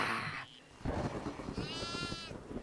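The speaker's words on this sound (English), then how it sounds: "Guys, I found a goat too." In the horror video game Devour, a single goat bleat rises in a quavering cry after a rumble of thunder, over a dense, noisy stormy backdrop.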